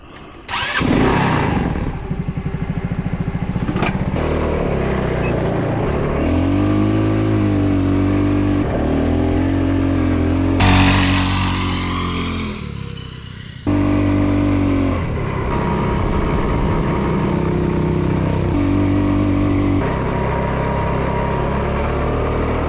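A small off-road vehicle's engine with a new carburetor starts and runs through a ride, revving up and down with shifting pitch, loud and close, briefly dropping off midway before picking up again.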